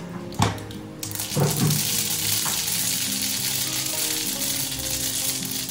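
White mustard seeds drop into hot oil in a wok and crackle into a sharp burst, then settle into a steady, loud sizzle with a few small pops and no talking.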